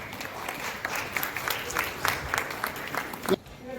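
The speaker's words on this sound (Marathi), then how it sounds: "खरोखर अशा माणसासाठी आपण उभं राहून टाळ्या वाजवाव्या अशी मला विनंती वाटते" Audience applause at an award ceremony honouring Azadsingh Tak with the Sir Ratan Tata Award: a steady crowd of clapping hands runs for several seconds under a speaking voice, with a brief louder burst near the end.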